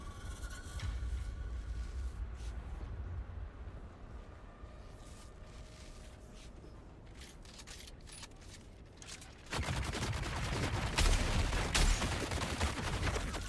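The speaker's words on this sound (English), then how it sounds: "That Gatling cannon is rough." A Gatling cannon in the Dune: Awakening video game fires in dense, rapid bursts, a continuous rattling roar that grows louder and harsher in the final seconds, with no talk over it.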